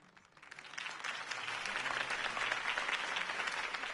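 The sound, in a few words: crowd applause after Harvey Dent's speech, Batman Telltale video game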